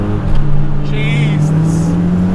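A stock Mitsubishi Lancer Evolution V engine drones steadily from inside the car while driving, its pitch rising slowly, with a voice talking over it.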